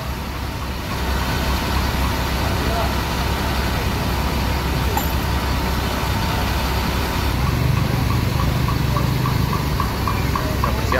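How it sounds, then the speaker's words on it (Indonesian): A black Adhi Prima bus with its engine idling and rumbling steadily, close and loud, as it gets ready to reverse in a crowded bus area, with a low throb that rises slightly toward the end. "Yang bus warna hitam Adi Prima mau mundur dulu ya."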